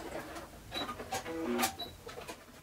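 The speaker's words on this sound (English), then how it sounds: "take them over to the machine where I am going to switch to a zigzag stitch." A sewing machine zigzag-stitches the overlapped ends of a strip of elastic together, heard as faint, short bursts of mechanical whirring and ticking in a quiet room.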